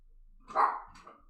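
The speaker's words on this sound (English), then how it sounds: "We got a lazy dog that'll sit on the couch and bark because she doesn't want to get up." An older, lazy dog indoors lets out a single short bark followed by a softer, fainter second yip, heard fairly close and on its own.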